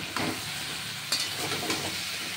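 Mixed vegetables for a Bengali niramish sabji sizzle and fry gently over low heat in a pan, a steady close hiss with a few brief stirring scrapes.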